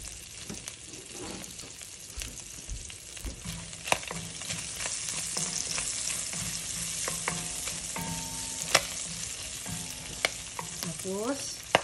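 Garlic sizzles steadily in hot oil in a pan, with utensil scrapes and clinks from stirring now and then, all without any voice, while pork ribs are being prepared.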